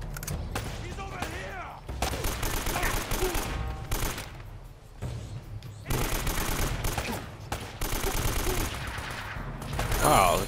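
Gunfire from the Uncharted: Drake's Fortune video game, bursts of rapid shots and fusillades in several clusters separated by short quieter gaps, moderately loud.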